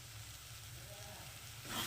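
Masala paste sizzling in oil in a pan while being cooked down for butter paneer, a steady soft hiss and crackle that swells louder near the end, with no talk.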